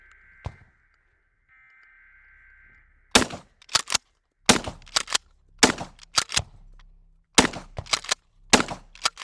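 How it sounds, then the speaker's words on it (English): Twelve-gauge shotgun blasts firing slugs and shot, a series of loud, sharp reports in close bursts of two and three, fired near, after a steady electronic tone at the start. "We're shooting 12 gauges"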